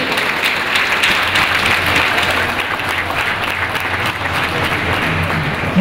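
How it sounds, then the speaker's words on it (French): Young people in the audience at a digital-economy launch ceremony in Burkina Faso break into sustained, dense applause that holds at an even level throughout. "Jeunes du Burkina Faso ici présents, je veux vous entendre à travers des applaudissements bienvenus."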